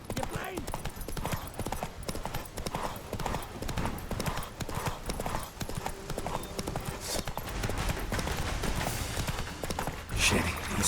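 Roach the horse galloping in The Witcher 3: Wild Hunt, with rapid rhythmic hoofbeats pounding steadily throughout, mixed with game sounds and brief character dialogue over the top.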